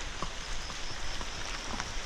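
Steady morning rain pours down outdoors near an eggplant garden, a dense even hiss of drops with faint scattered taps throughout.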